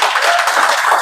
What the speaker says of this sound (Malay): Jadi bagi tepukan yang sangat gemuruh untuk diri sendiri boleh?